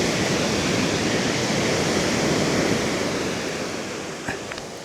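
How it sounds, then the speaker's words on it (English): Sea waves breaking and washing up a local beach at night, a steady loud roar of surf that fades slightly toward the end. "These waves are coming up to my feet."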